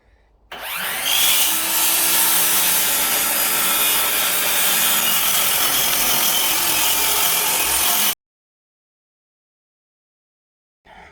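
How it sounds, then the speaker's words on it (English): A power saw cuts a wooden board to length, a loud continuous whining, rasping cut starting abruptly and running about eight seconds before stopping dead into silence. "So we're just going to cut this off, maybe 45."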